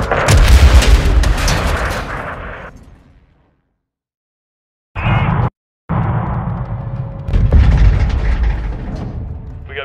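Close air support gunfire in Call of Duty Modern Warfare II, with loud, heavy bursts of booming fire that fade into a short silence before more abrupt blasts and rumbling shots resume.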